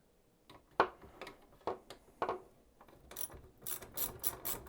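A hand ratchet undoes two bolts on an SR Suntour bicycle fork, giving quick clicking bursts of pawl clicks, a few spaced strokes and then faster rapid clicking, close and clear in a quiet room.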